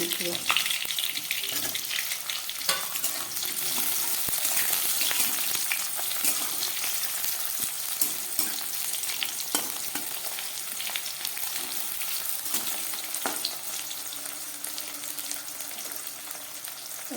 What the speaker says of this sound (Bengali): গ্যাসের আঁচটা কমিয়ে আমি আলু বেগুনটাকে ভেজে নিলাম